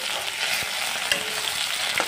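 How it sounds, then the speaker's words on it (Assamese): Potatoes sizzle in a pan, a dense close crackle with scattered clicks and scrapes as they are stirred, and no one talking. "আলুখিনি এনেদৰে ভাজি ল'লোঁ"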